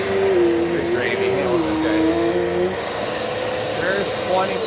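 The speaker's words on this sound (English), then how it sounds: "the suction on this vacuum is really good" A Dirt Devil multi-surface vacuum cleaner runs with a steady, loud motor drone and shifting whine, while a person talks over it throughout.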